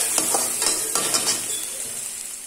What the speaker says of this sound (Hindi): प्याज को थोड़ा सा लाल करने के लिए इसमें नमक डाल दूंगी, ताकि प्याज जल्दी से लाल हो जाए।